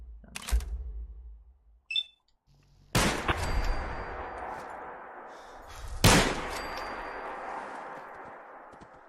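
Cannon fire in a modded first-person shooter game: loud, sharp blasts, one early shot and two heavy booms about three seconds apart, each ringing out into a long decaying echo.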